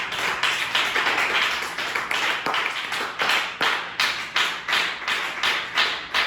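A congregation at a church service claps in a steady, rhythmic beat, loud, dense and close, with sharp repeated hand strikes filling the space and no talk over them.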